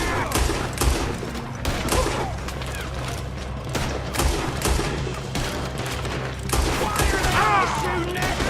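Rapid bursts of gunfire crackle through a Red Dead Redemption 2 shootout, repeated shots and volleys in uneven clusters over a low rumbling game soundscape.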